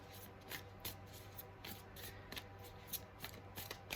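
Tarot cards are shuffled and handled close by during a reading, giving soft, faint riffling and flicking in quick irregular bursts over a quiet hum, with no speech.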